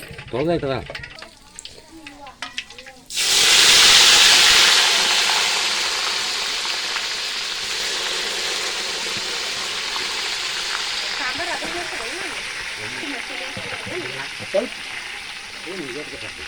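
Curry leaves and garlic hit hot oil in a pan over a wood-fired stove while mutton dishes are prepared, bursting into a loud, sudden sizzle that slowly settles into a steady frying hiss, with a voice talking before and faintly during it.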